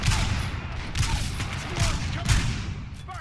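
Pistol fire in the shooter game Titanfall 2 rings out as several loud, evenly spaced shots, each a sharp crack with a booming tail, over a constant game background.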